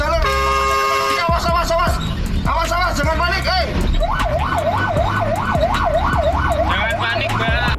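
A fire engine siren wails on a busy street, rising and falling in a regular cycle over traffic noise and crowd chatter, loud and close as it passes.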